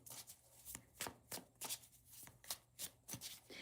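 Tarot cards being shuffled by hand in a quiet room, a run of crisp riffling bursts repeating about every third of a second, close and fairly soft with no talk over them.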